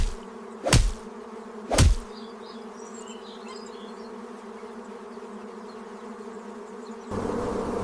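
Swarm of African honeybees buzzing in a steady, dense drone, with two sharp loud passes of individual insects whizzing close by early on, then a continuous hum that thickens near the end.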